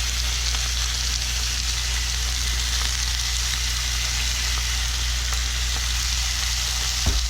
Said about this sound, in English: we're going to let this cook, turning it back, turning it again, so we get a nice caramelized color on it